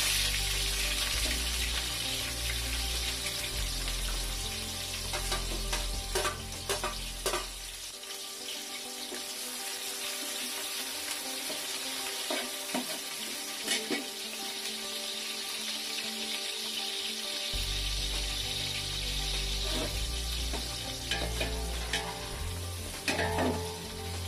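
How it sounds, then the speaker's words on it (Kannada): Onions sizzle steadily in hot oil in a pan for chicken biryani, a close, continuous crackling fry with a brief quieter stretch in the middle and no talking. "ಸೊ ಈರುಳ್ಳಿ ಸ್ವಲ್ಪ ಕ್ರಿಸ್ಪಿ ಆಗಲಿ."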